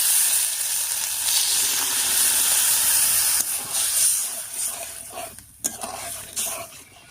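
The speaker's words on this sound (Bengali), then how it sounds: "এবার মশলা বাটা জল দিয়ে কষিয়ে নেব।" Ground spice paste of chilli, ginger and cumin loosened with water hisses and sizzles steadily in a hot pan for a potol and chhana curry, the frying fading and softening toward the end with a few faint stirring scrapes.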